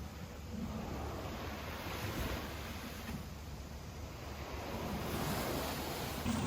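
Ocean waves wash steadily onto a beach in the early morning, a broad continuous roar of surf mixed with wind buffeting the microphone, with no one talking.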